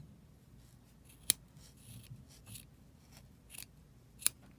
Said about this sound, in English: Now what we're going to do is cut our little loops.